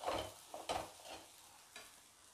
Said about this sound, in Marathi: आता हे छान परतून घ्यायचं आणि याचा रंग चेंज होईपर्यंत साबुदाण्याचा आपल्याला हे परतायचं आहे